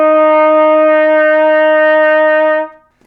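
A trumpet sounds an F fingered with the first valve, one clear sustained note held steadily for about two and a half seconds before stopping, solo and close with no talking.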